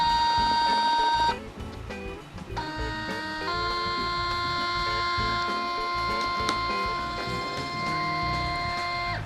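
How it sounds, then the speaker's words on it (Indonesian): The motor of a Nike Adapt BB 2 self-lacing shoe whirs while tightening, a steady close mechanical whine that stops and restarts in a few stretches, with no talk. "Nike mengklaim sepatu ini suara motornya nggak lebih berisik"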